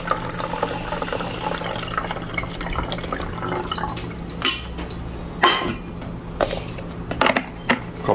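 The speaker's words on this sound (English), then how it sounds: "I am going to pour out all this liquid." Liquid being poured out of a hummingbird feeder after rinsing, with sugar water splashing and trickling in short irregular bursts that grow louder toward the end, plus a few faint clinks from the container.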